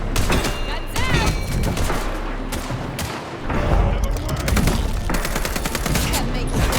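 Loud, rapid gunfire rattles in repeated bursts in Vampire: The Masquerade – Bloodlines 2, with heavy thuds and a short lull midway before shooting resumes, game character voices mixed in.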